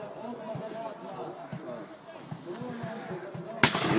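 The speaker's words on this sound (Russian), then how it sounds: "Вы слышите звуки выстрелов." A single sharp gunshot cracks out near the end, loud and close, after a stretch of background voices and bustle, at a military history reenactment in Kamianets-Podilskyi.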